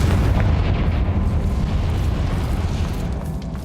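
A fiery Confringo spell blasts in a Hogwarts Legacy cavern, a loud, sustained rumbling explosion with dense low booming that holds steady for several seconds before easing slightly.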